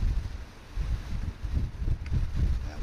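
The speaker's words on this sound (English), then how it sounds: "That wind is a bit on the loud side." Steady, rumbling wind buffets continuously in low gusts that swell and ease, loud and close throughout with no talking.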